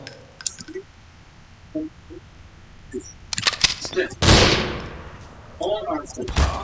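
Video game gunfire aimed at a watermelon: a few scattered sharp shots, then a dense, loud burst of rapid fire near the middle and a couple of cracks at the end, with occasional quieter clicks between.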